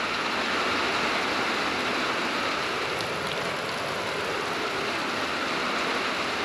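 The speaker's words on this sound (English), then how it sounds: "I think it's rain and hail." Dense, steady rain with hail drumming on a wind shelter in southern Sweden, an even hiss of close impacts continuing throughout without voices.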